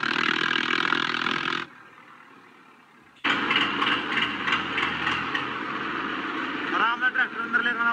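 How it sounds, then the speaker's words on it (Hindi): A tractor engine idles and runs with a steady rumble. The sound drops out briefly, then returns louder with rattling and varying revs. "चलते हैं घर पर ट्रैक्टर खड़े कर देते हैं"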